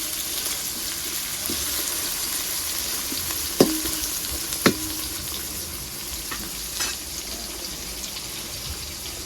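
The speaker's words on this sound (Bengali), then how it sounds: "পেঁয়াজ হালকা ভেজে নেব।" Sliced onion fries gently in a pan, giving a steady, moderate sizzling hiss with a couple of sharp clinks from a utensil midway, no talking.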